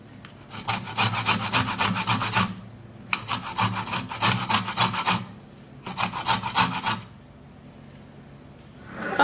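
An orange rubbed against a grater for zest gives crisp, rhythmic rasping strokes close by. They come in three bursts with short pauses between them, and no one speaks.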